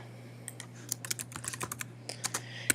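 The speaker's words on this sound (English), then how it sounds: "And then you could type your student" Rapid, uneven keystrokes on a computer keyboard, close and crisp, with short pauses between runs of typing and no talking.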